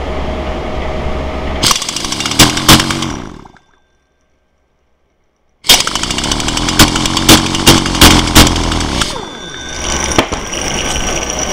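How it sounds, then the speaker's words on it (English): A small chainsaw engine fired by a transistor ignition circuit and spun by an impact wrench roars loudly up close, cuts out for a few seconds of silence, then restarts and keeps buzzing with rattling knocks. "Little chainsaw motor."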